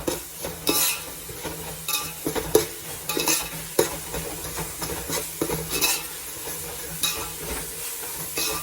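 Mint and coriander leaves being fried and stirred in a pan for chicken dum biryani: a steady close sizzle with repeated scraping and clinking of a spoon against the metal.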